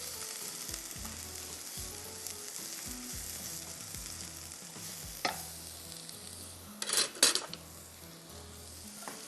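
Onions sauté in a pan with a soft, steady sizzle, broken by a few clinks of utensils against the cookware near the end.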